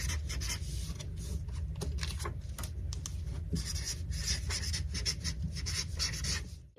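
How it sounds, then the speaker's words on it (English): Steady scratchy strokes of a pen writing words in a different color on paper, close and continuous with a soft rubbing texture and small rhythmic ticks between strokes, heard alone without talking. "I'm going to write the words in a different color"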